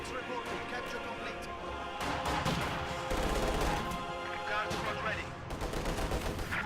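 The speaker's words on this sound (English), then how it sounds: "PTRS snipes 1." Gunfire in a strategy video game, including a PTRS anti-tank rifle, comes as a string of sharp shots and bursts, loud and close, with a voice talking over the action.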